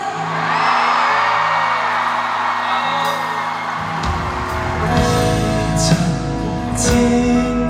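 Concert crowd at a live Cantopop show cheering and whooping over sustained music, a dense wall of crowd noise with shouts rising above it, continuous and loud throughout.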